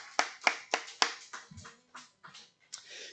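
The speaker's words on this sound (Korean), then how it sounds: "우리 주님께 한번 영광의 박수 올려드립시다." Scattered handclaps from a church congregation during a Korean sermon, a few crisp, evenly spaced claps that soon thin into softer, sparser ones with no voices.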